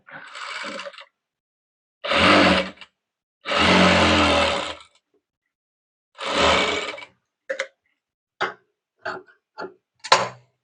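A domestic sewing machine stitches a choli blouse in separate mechanical runs: short bursts near 0–1 s, 2–3 s and 3.5–5 s, one more around 6.5 s, then several quick clicking jabs toward the end, close and fairly loud, with no talk.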